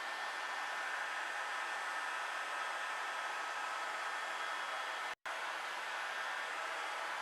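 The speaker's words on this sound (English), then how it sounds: "It's mainly done with a heat gun." A heat gun blows over polished marble while a wine stain is treated, making a steady, airy whoosh at low level with one brief dropout partway through.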